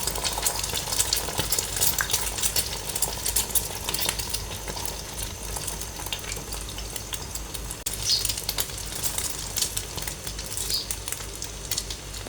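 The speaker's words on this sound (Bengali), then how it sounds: "এখানে ফ্রাই প্যানে তেল দিয়েছি, ডিম নিয়েছি 3টা, কাঁচামরিচ পেঁয়াজ দিয়ে মামলেট করে নেব" Eggs with green chili and onion frying in oil in a pan, a steady soft sizzle and crackle throughout with occasional scraping and stirring, no voices.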